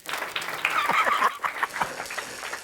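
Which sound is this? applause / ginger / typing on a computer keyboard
applause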